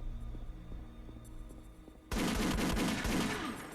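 Pistol shots in the VR version of Doom 3, a dense volley of sharp gunfire bursts erupting loudly after a quieter stretch of game ambience with low hum.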